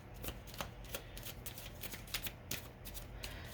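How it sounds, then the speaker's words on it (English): Quick, crisp riffling of tarot cards being shuffled, a run of soft papery flutters and taps over a low steady hum, close by. "so I'll just go ahead and shuffle"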